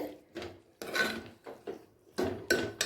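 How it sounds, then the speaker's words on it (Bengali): The metal lid of a pressure cooker is worked open after vegetarian banana-flower cooking, with a series of faint clinks, scrapes and rattles in uneven bursts, heard close but quietly. "এরপর কুকারের ঢাকাটা খুলে দেখে নেব"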